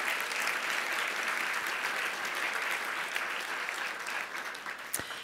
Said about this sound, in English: How about a round of applause for the Tucker team?